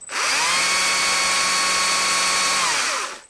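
Stihl battery chainsaw revving up and running at a steady high-pitched electric whine for about three seconds, then spinning down, close and loud with no talking.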